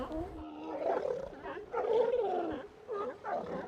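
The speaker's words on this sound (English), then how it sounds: "grunts, and roars can disturb some people, Ian Morgan considers himself lucky to see the sea lions" Sea lions hauled out on a floating raft normally used by children let out deep, rough barks, grunts and roars in a drawn-out, overlapping chorus at moderate volume.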